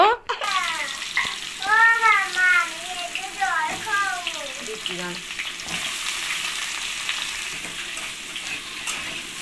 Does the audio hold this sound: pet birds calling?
no